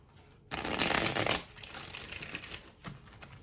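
A short burst of tarot cards being riffled and shuffled close by, a fast crisp flutter that settles into softer rustling.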